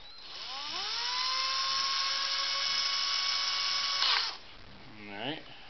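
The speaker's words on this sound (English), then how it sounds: "you're going to drill that rivet out" A small drill whines at a steady high pitch while drilling out the rivet on a plastic Toys R Us Green Lantern toy ring, spinning up, holding for about four seconds, then stopping, followed by a brief voice.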